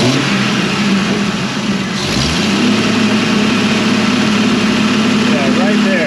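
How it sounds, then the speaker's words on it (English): A 4.0 engine in a 1995 Jeep Wrangler idles loudly and steadily up close with a rough misfire, and a voice speaks briefly over the running engine. "see that misfire right there?"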